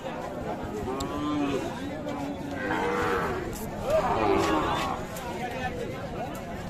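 Calves and cattle at a busy livestock market where young bulls and heifer calves are being traded: several moos close by and farther off rise over a steady crowd murmur, and people talk throughout.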